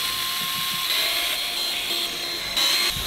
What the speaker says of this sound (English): Kirk brought his IKEA drill, nice.